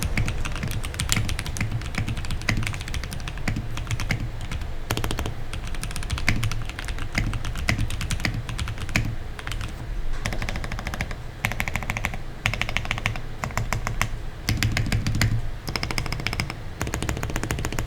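Fast, continuous clacking comes from a mechanical computer keyboard, heard before and after a tape mod under its PCB. The dense, rapid keystrokes run close and alone, with short pauses between bursts.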